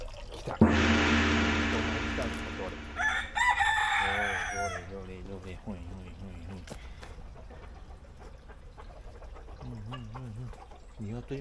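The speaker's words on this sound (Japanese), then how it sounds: "鶏も来たよ。" A chicken at the Aizu Isasumi Shrine gives short clucks and murmurs close by, following a sharp burst of noise at the start, while a person talks softly in the background.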